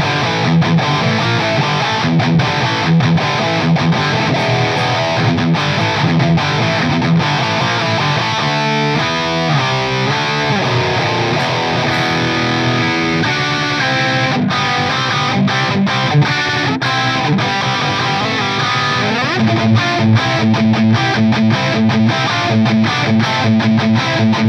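A heavily distorted electric guitar through a Nux Trident multi-effects unit modeling a British Marshall 800-style amp plays continuously, thick crunchy chords with fizzy highs and a full low end, loud and steady throughout.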